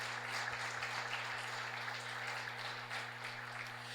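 A church congregation claps together in steady, continuous applause that holds at an even level for the whole stretch, with a low electrical hum running underneath and no voices.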